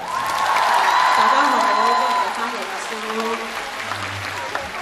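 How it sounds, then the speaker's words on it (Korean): A fan meeting crowd in Macau applauds, with dense clapping and some cheers mixed with overlapping voices, loud at first and then settling slightly but continuing throughout. "박수 주세요"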